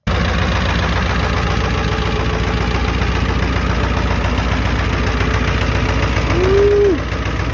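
Ford 7.3 OBS diesel truck engine idling up close, a loud steady knocking diesel clatter running throughout, with a brief rising tone near the end before the level dips slightly.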